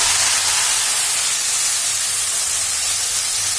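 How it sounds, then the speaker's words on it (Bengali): Onion paste hits hot oil in a pan while cooking achari begun, an eggplant pickle curry, producing a loud, steady, hissing sizzle that fills the whole moment without pause. "এখন দিয়ে দিচ্ছি পেঁয়াজের পেস্টগুলি"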